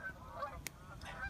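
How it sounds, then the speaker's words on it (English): Canada geese honk outdoors, faint and distant, giving a few brief calls. "Look at those Canada geese there."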